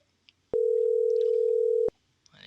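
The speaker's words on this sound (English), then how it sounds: "At least it's ringing." A telephone call's ringing tone sounds once as a steady, loud electronic buzz lasting over a second, clean and close, with quiet background before and after.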